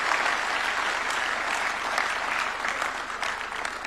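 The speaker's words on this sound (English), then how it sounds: "A round of applause for her." Dense, continuous applause from a large audience at a presidential award ceremony at State House in Nairobi, steady and fairly loud from start to finish with no speech over it.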